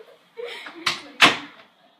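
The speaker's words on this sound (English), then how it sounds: "we gotta close the door!" A door is swung shut indoors with two sharp, close knocks in quick succession, mixed with brief, excited vocal sounds.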